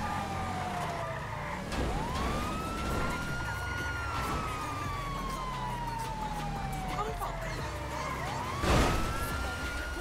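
A police car siren from the GTA V video game wails in long rising and falling sweeps, loud and steady, over engine rumble and game noise.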